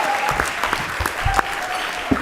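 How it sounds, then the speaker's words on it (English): Audience applause at an awards gala in Baltimore, a steady patter of clapping hands with a few louder claps standing out and faint voices mixed underneath. "give him another round of applause"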